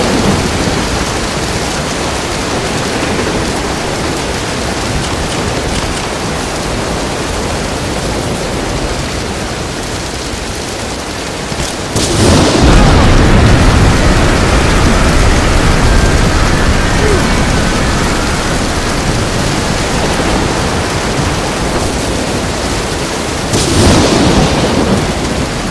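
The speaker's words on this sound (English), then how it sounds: "storm gonna tear this boat apart!" In Dead Island: Riptide, a thunderstorm at sea brings loud, constant rain and rumbling thunder, with two heavier thunder surges about halfway through and again near the end.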